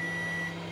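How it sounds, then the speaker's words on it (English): A microwave oven beeping as its cooking finishes in a home kitchen: a steady electronic tone holds at a constant pitch, fairly faint, with no talk over it. "the microwave is beeping as well"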